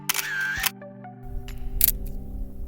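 A camera shutter fires with a mechanical clack during exposure bracketing at slow shutter speeds, followed by quieter clicks and handling noises close by.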